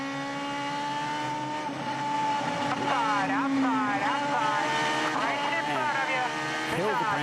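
IndyCar race car lapping New Hampshire Motor Speedway with tires not yet up to temperature, engine whine climbing through gears in rising sweeps, heard onboard under steady commentator talk.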